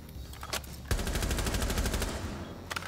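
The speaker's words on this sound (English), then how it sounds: "Oh man, Jaeger's recoil is" Automatic gunfire from Jaeger's weapon in Rainbow Six Siege, two short bursts followed by a sustained rapid stream of shots lasting over a second, then a few more quick pops, loud and close.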